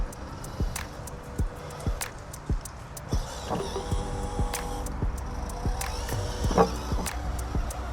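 An MN168 Range Rover RC crawler's electric motor whines and strains as the truck climbs over a board, with ticking and knocking contacts over a steady mechanical hum.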